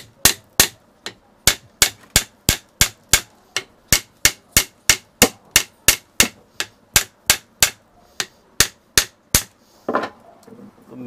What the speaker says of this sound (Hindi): तो इसको हम जो पहले ठोक लेंगे।